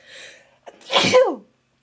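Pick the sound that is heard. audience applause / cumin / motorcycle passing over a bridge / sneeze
sneeze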